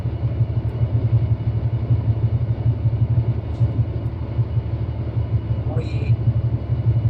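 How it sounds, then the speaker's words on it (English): Locomotive diesel engine running steadily at low notch while its engine-driven air compressor builds pressure toward 10 bar, a constant loud low rumble with a faint brief higher hiss near the end. "we'll just wait for the compressor to build up to 10 bars"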